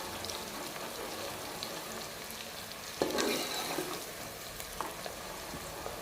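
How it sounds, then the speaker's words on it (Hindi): Onions frying and being stirred in a pan for a gosht dish, a steady close sizzle with scraping stirs and a sharper clatter midway, no voices. "प्याज को अच्छी तरह मिक्स करें ताकि ये नीचे से जल ना जाए।"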